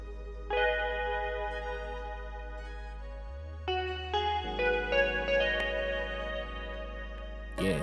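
A guitar pattern programmed in FL Studio plays sparse plucked, echoing notes over a deep sustained bass tone, moderately quiet, shifting to a fuller chordal passage partway through.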